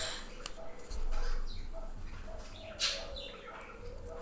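Pet birds chirp and coo faintly over a noisy background of dogs barking and howling, with scattered short calls and a brief sharper tweet near the end.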